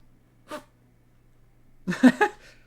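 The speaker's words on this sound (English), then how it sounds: "Did you hear that? My dog just sneezed." A pet dog gives a soft sneeze, then a louder, quick snorting burst of sneezes a moment later, close by in an otherwise quiet room.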